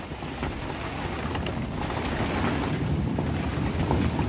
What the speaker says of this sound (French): Et là, il y a du vent.